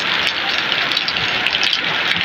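Steady rain of the first downpour of the season in Benin City, Nigeria, hisses continuously on surfaces, a close, fairly loud, even patter with no talking.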